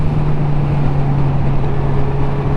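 A 2022 Honda CB1000R Black Edition cruises at 70 mph in sixth gear around 4,200 rpm on a dual carriageway, a steady engine drone buried in loud, constant wind rush with no talking.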